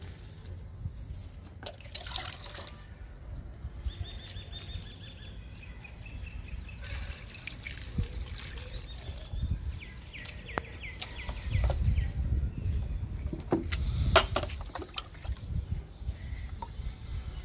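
Water steeped with papaya peels trickles from a can onto fruit and flower plants in a home garden, a faint intermittent pour with light splashes under distant birds and outdoor ambience.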